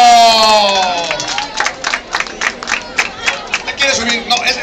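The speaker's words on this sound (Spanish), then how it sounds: "¡Aplauso!" A crowd cheering and clapping at a Cherry Matsuri festival stage event, with a voice fading out at the start, then a lively burst of clapping and shouts that stays fairly loud and near.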